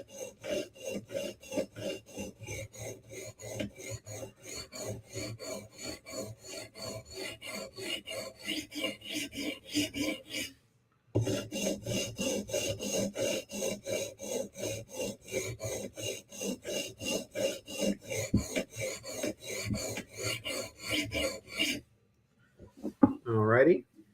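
A Para 3 knife with Cruwear steel is sharpened with fast, rhythmic rasping strokes against a stone, close and steady, pausing briefly twice.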